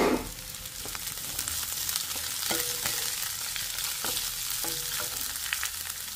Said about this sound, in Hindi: सब्जी को हल्का सा हम फ्राई कर लेंगे